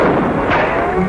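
A loud, dense burst of gunfire and booming blasts from a war film fills the short stretch without letup, sounding like continuous battlefield shooting and explosions.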